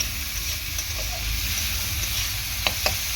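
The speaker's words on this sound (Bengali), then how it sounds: "পেঁয়াজ আর টমেটোটা ভালো করে তেলের মধ্যে ভেজে নেব।" Chopped onion and tomato frying in oil for a quick Maggi noodle snack, a steady close sizzle with a faint stir or two near the end and no talking.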